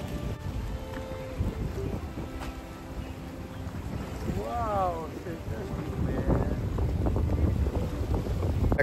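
Steady wind roaring and buffeting across open water during a fishing trip, with a boat engine hum and faint voices underneath.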